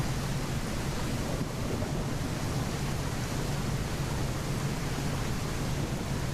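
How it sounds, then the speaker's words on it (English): Steady broadband wind roar with a low rumbling undertone as a storm moves in, heard in the Nautic XP ship simulator game; continuous and fairly loud throughout, with no talking. "Can actually hear the wind picking up now."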